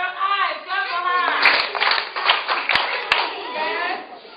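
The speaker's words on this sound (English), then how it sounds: "clap for her." Schoolchildren applaud a classmate with a brief flurry of quick hand claps, some sharper single claps standing out, while a teacher's voice speaks before and after the applause.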